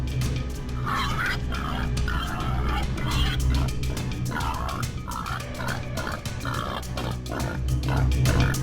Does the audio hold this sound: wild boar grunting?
yes